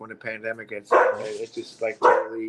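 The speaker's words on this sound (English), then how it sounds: "That's my dog." A pet dog barks several times at home, sharp barks breaking in between and over a person talking nearby, loud and close.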